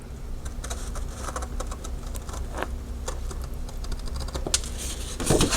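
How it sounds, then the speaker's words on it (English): Large scissors cut the corner of a paper file folder, giving a close series of small, crisp snips and clicks. The snipping speeds up toward the end, and no one speaks. "So let's take the scissors and cut that out."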